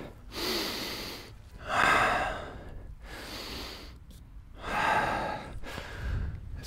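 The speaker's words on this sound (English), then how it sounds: "Deep breaths through the nose." Deep, forceful breathing through the nose during an intense cardio yoga workout, with about four long audible inhale-exhale cycles, close and steady, with no talking.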